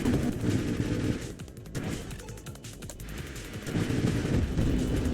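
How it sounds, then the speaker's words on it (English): Missiles fire in a space shooter game, Nova Drift, as a dense, continuous crackling barrage of rapid shots and blasts layered over game music. "I am spewing out a lot of missiles."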